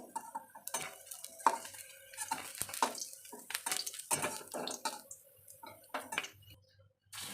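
Fried soybean fritters bound with gram flour are lifted out of a frying pan, producing quiet, irregular scrapes and metallic clinks of a utensil against the pan in short bursts.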